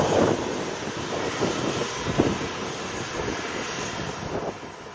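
An airplane engine roars steadily at Sangster International Airport in Montego Bay, a broad, loud rumble with wind buffeting the microphone, easing slightly toward the end.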